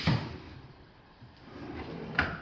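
A kitchen cabinet drawer slides open or shut in a room being renovated, giving a soft thump at the start and a sharper click near the end, with quiet room noise in between.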